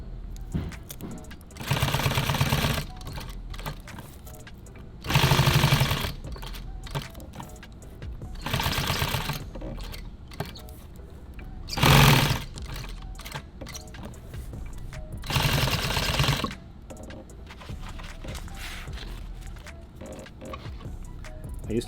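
A sewing machine stitches nylon tactical gear in about five short, loud bursts of rapid needle chatter. Quieter pauses with faint handling noise separate the bursts.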